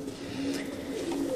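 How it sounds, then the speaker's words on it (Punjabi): A Cheena breed pigeon held in the hand gives low, continuous cooing that hums close and steady throughout, with no speech over it. "ਇੱਕ ਆ ਜਿਹੜਾ ਕਬੂਤਰ ਤੁਸੀਂ ਫੜੀ ਬੈਠੇ ਹੋ"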